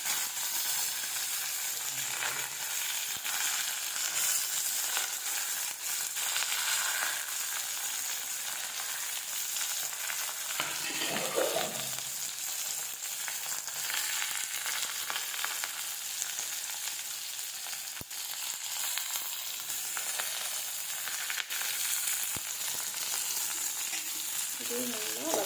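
Onion and curry leaves frying in hot oil with popped mustard seeds for a bitter gourd stir-fry, a dense, continuous sizzle with occasional stirring scrapes, steady and close throughout.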